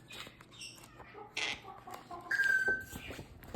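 A small owl gives chicken-like clucks and a drawn-out call, several short calls scattered over a quiet background, fairly close and clear.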